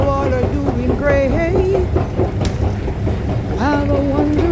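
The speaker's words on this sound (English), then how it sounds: "I'm exiting the train station to do my business." Subway train at a station, a loud rumbling carriage with squealing wheels and metallic screeches rising and falling, close by and continuous.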